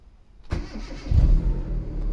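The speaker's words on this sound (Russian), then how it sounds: "Это местный мотор, установлен на машине, заводится." A warm Hyundai Accent engine fitted in a car cranks briefly and catches, then settles into a close, steady mid-pitched idle with a slight rev as it fires up.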